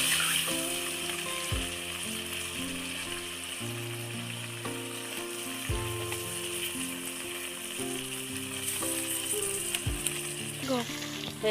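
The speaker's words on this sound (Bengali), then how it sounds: "তেল দিয়ে দিচ্ছি, পনিরটা ভেজে নেব" Paneer fries in hot oil in a kadai, a steady close sizzle and crackle with occasional stirring knocks, continuous and moderately loud, no one talking.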